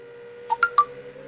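Three quick telephone keypad dialing tones, short bright beeps in an uneven cluster over a faint steady hum, with no talking.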